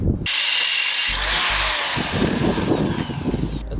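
A corded power drill bores into material while fitting new front seats in a Jeep Cherokee XJ, starting with a loud burst and then a steady, close, rough whir with grinding that runs to the end without talk.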